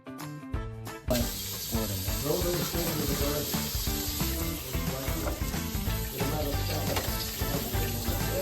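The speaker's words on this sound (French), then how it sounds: "Utilisez maintenant une passoire pour vider l'eau" Water drains through a colander in a kitchen, a continuous hissing, splashing pour heard under steady background music after a brief opening clatter.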